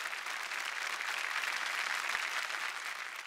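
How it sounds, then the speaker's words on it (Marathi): An audience at a televised Marathi couples' game show claps in a dense, sustained burst of applause, loud and even throughout, with no voices over it. "जोरदार टाळ्या झाल्या पाहिजे त्यांच्यासाठी"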